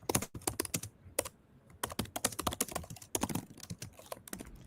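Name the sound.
typing on a computer keyboard during a call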